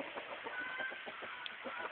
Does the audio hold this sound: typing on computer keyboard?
no